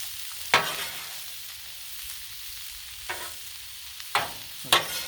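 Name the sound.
kielbasa searing and sizzling on a Blackstone griddle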